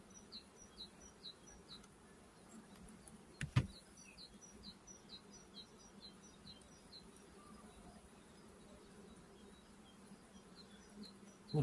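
Honeybees buzz around an open hive while smoke drives them off the frames, a soft, steady drone with a faint outdoor background and a single sharp knock partway through.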